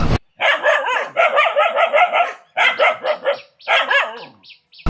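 A dog barks in quick bursts of sharp, yappy calls, grouped in several runs separated by short pauses, loud and close with no voices.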